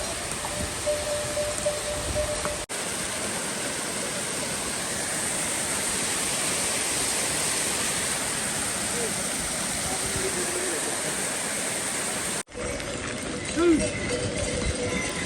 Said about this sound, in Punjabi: ਦੇਖੋ ਸਾਹਮਣੇ ਕਿੰਨਾ ਸੋਹਣਾ ਝਰਨਾ ਪਾਣੀ ਆ ਰਿਹਾ